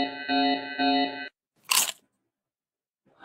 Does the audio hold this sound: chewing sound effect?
yes